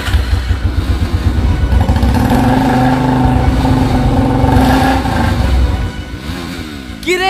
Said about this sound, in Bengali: মোটরসাইকেল স্টার্ট করতে হবে।